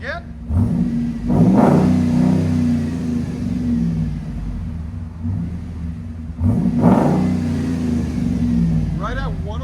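A 2016 RAM 2500 HD pickup with a 6.4L HEMI V8 and a Vibrant resonator exhaust revs twice in loud, deep surges that swell and settle back to a steady rumbling idle, with voices talking faintly over it.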